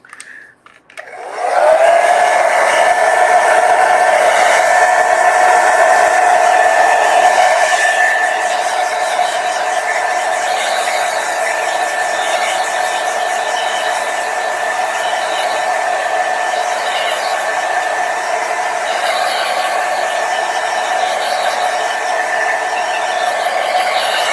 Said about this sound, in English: I'm going to use a blow dryer just to hasten the drying time